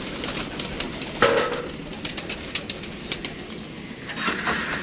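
A flock of pigeons coos and flaps as they are released from their loft, with one sharp burst of wingbeats and softer fluttering over a steady bed of low cooing, close by.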